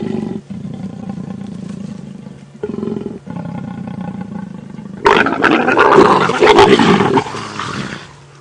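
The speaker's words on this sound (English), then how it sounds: "all of the fierce growling and roaring" Lions growl and roar fiercely while mating, a low rumbling growl building to a loud, harsh roaring burst near the end, close and sustained on a morning safari drive.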